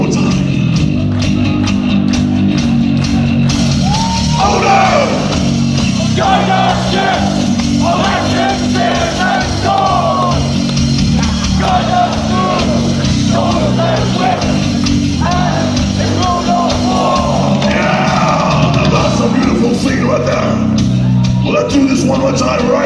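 Dense concert crowd at a death metal show, loud and continuous, with many voices shouting and screaming together over amplified band noise for the whole stretch.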